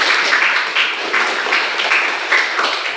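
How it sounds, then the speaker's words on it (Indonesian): A classroom full of students applauds, a dense, even patter of many hands clapping at once, steady for a few seconds with no voices over it. "Terima kasih, beri dulu aplaus."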